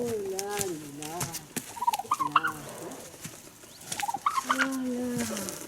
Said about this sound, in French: il y a le dindon aussi qui est là